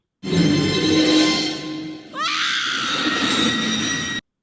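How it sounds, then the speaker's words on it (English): A woman in a Jurassic Park film scene lets out a long, loud, shrill scream that breaks briefly and then continues at full intensity before cutting off abruptly. "that transition when the mom screams and then Jeff Goldblum's yawning"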